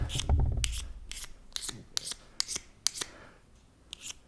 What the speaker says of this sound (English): Now if we scrape off some of this coating